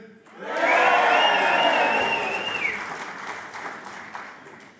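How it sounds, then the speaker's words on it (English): A graduation audience cheers for the class of 2026 in a loud, sustained burst of shouting and applause that swells quickly, holds for a couple of seconds, then tapers into scattered clapping and voices. "we're going to give a big cheer for the class of 2026"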